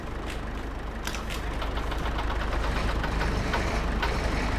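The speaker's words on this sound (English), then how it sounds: "Just have to start the combine's engine again so we can get the auger going" A combine harvester engine in a vintage farming video game runs steadily in a loud, close, rumbling idle with faint clanks and ticks, and no talk.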